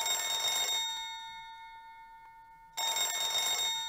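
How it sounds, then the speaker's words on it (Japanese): An old black rotary telephone in the horror video game Hayarigami 3 rings loudly with a metallic bell trill, cutting off into a brief quiet gap before a second ring starts. "珍しい、この黒電話が鳴るなんて。"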